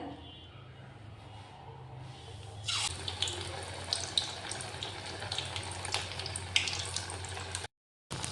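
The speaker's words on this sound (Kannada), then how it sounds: "ಎಣ್ಣೆ ಚೆನ್ನಾಗಿ ಕಾದಿದೆ ಇವಾಗ ಎಣ್ಣೆಲಿದ್ದು ತುಪ್ಪರಿಕಾಯಿ ಬೋಂಡ ಮಾಡೋಣಂತ" Gourd bonda fritters, North Karnataka style, frying in hot oil: a steady close sizzle and crackle starts a few seconds in and keeps going, fairly soft, with a brief drop to silence near the end.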